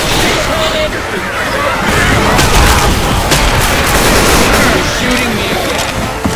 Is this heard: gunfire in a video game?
yes